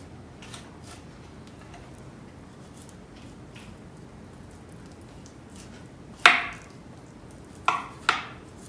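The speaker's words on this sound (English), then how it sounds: "Trim the fat up on this one." A knife trims fat off a cut of meat ahead of smoking on a Traeger Elite smoker. After a long quiet stretch, three sharp, close cutting knocks land near the end.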